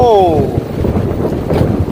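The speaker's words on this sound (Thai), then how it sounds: "ลมมาแล้วพี่น้องลมมาแล้ว" Strong wind gusts ahead of rain in a rural Thai village batter the microphone with a loud, continuous low roar, while a person calls out over it.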